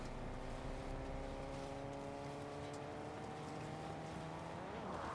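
A car drives in the Fortnite video game, a steady, fairly faint engine hum with a constant tone across the whole stretch and no voices.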